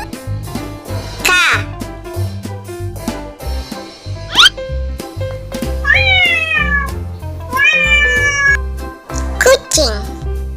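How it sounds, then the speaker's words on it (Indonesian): A cat meows several times in a row, clear drawn-out cries with rising and falling pitch, heard over a bouncy children's music backing track. "Kucing."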